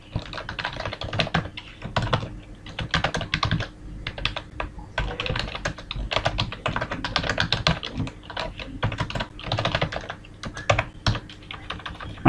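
Continuous rapid keystrokes on a computer keyboard as C++ code is typed, a dense close-up clatter with brief pauses between bursts and no speech.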